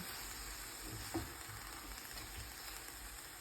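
Food fries in a pan at home with a soft, steady sizzle, faint and even, with one small tap of a utensil partway through.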